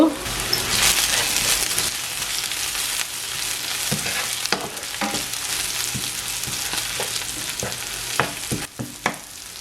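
Dried sprats and curry leaves fry loudly in a pan for a Jaffna-style sprats fry, a steady close sizzle broken by scraping stir strokes and small clatters. No voices.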